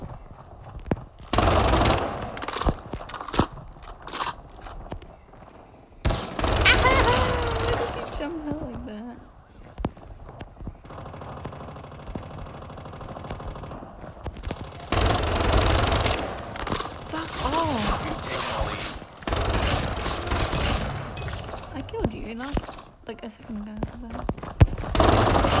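Bursts of automatic and single-shot gunfire from a Call of Duty match come in loud clustered volleys separated by quieter stretches, with footsteps and game ambience between the firefights.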